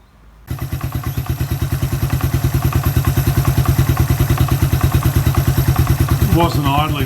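Suzuki Quad Runner 250 ATV engine starting and then idling steadily, close and loud, with an even rapid thumping beat; a voice briefly speaks over it near the end.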